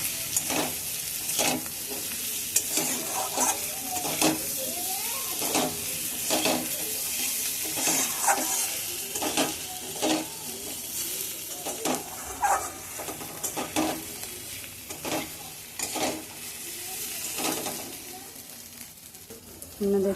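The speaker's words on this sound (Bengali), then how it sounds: "হলুদটা দিয়ে নাড়াচাড়ার পরে আমি অল্প সামান্য জল দিয়ে আবার নেড়ে দেব।" Turmeric and spices fry in a pan with a steady sizzle, broken by repeated scraping stir strokes at a regular rhythm, close and moderately loud, with no talking.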